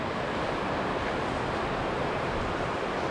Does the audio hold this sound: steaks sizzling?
no